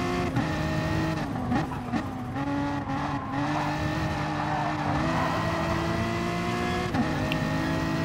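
Race cars in a touring car racing game on the St Croix circuit, with one car driving past another out of a corner: a loud, steady engine roar with shifting pitch and brief tire squeals, no talk.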